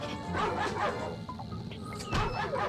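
Dog barking in the Ratchet & Clank video game, a few sharp yips and woofs over continuous game sound effects and background noise.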